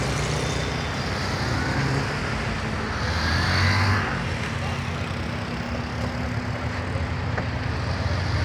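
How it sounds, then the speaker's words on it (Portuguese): A rescue vehicle pulls up at a motorcycle accident scene on a city street in Indaiatuba, its engine a steady, fairly loud rumble. Continuous traffic noise fills the background, and a person talks nearby. "Chegou o carro do resgate"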